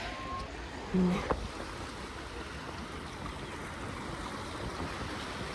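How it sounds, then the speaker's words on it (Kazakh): Steady broadband wash of Caspian Sea surf at Aktau rolling onto a shore, continuous and moderately loud, with a brief knock near the start and no talking. "Біз теңіз жағаға келдік."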